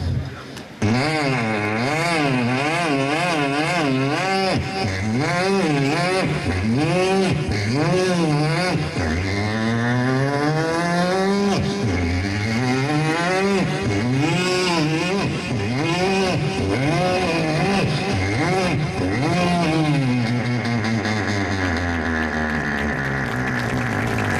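A voice imitates a motorbike circling a circus well of death, with a long, loud, continuous engine drone that rises and falls in sweeping revs, close up and unbroken.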